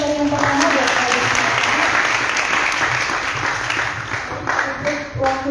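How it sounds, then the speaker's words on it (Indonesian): An audience claps for the first speaker at a youth event in Bali, a dense, loud, continuous round of applause that holds steady and then thins slightly toward the end. "Saya mohon dulu tepuk tangannya untuk pemateri yang pertama buat Kak Adi"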